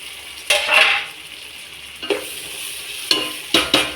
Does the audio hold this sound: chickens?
no